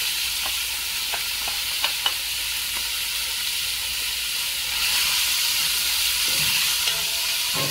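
Fatty meat frying in a spoonful of ghee for a spinach stew, a loud steady sizzle and steamy hiss with occasional utensil taps, growing a bit stronger midway.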